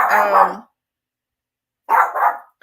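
A pet dog barks close and loud in two bursts, a double woof, then a pause, then another quick pair of barks starting as the clip ends; no talk.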